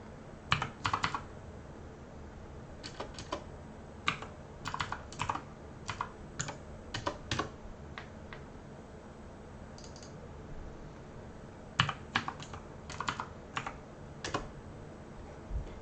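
Values are typed on a computer keyboard in short bursts of quick, close key clicks separated by pauses, quiet and without speech.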